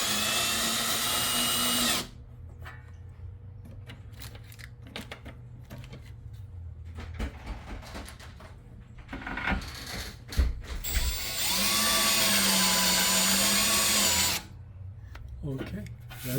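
A power drill drives screws into an Ultrawall garage storage wall panel in two loud, whirring bursts, one at the start and a longer one near the end. Between the bursts come quieter handling clatter and someone talking.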